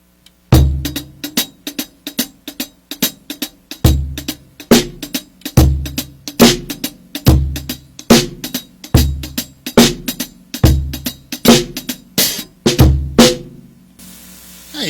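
On a drum kit, a shuffle of triplets with the middle note of each triplet left out repeats in a steady, swung loop of crisp close hits. It plays alone for about thirteen seconds, then stops.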